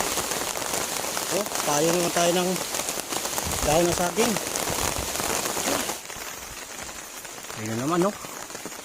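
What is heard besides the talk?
rain and wind by a forest river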